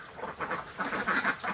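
Laying ducks on a duck farm quack in a dense, overlapping chorus of repeated nasal calls, steady and fairly near, with no talk.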